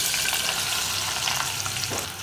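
Chopped onion dropped into hot coconut oil in a pressure cooker for egg curry, sizzling and crackling in a steady, dense hiss that stays close and loud throughout with no talking.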